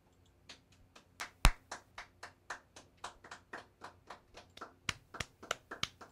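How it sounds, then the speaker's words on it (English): Hands clapping in a talk-sports studio setting: a steady run of about twenty sharp claps over several seconds, with one or two louder slaps standing out. "Don't clap at yourself."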